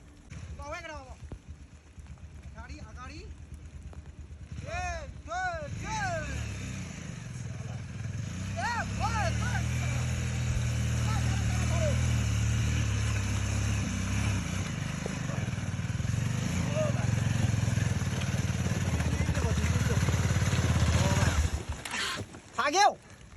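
Motorcycles climb a steep uphill mountain trail in Ruby Valley, a steady engine drone building and holding near the microphone for most of the stretch, with people talking over it at the start.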